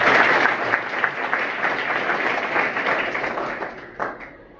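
A school audience applauds a child at an event, a loud, dense burst of many hands clapping together that gradually thins and fades toward the end with a few last scattered claps.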